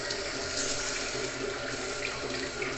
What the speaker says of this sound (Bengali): এবার এটাকে একটু জল দেব